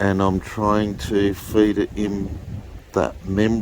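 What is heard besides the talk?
No distinct noise like a dog, phone or traffic.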